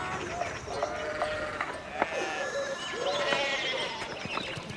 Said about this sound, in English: There's sheep all over the goddamn place